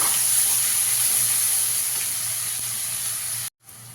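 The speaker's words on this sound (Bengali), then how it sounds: "এবার পেঁয়াজটা একটু ভালো করে ভেজে নেব।" Ground onion paste frying in a hot pan, a loud steady hiss and sizzle that holds evenly, then cuts out abruptly near the end before briefly resuming.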